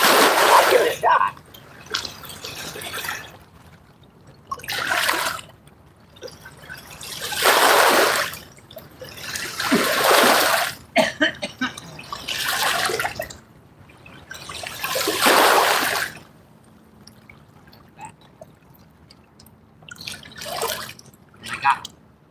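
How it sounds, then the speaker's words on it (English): River waves splash in repeated surges at a riverbank fishing spot, loud bursts of rushing water rising and falling every few seconds, with a low background hum between them. "Wave got into my worm bucket."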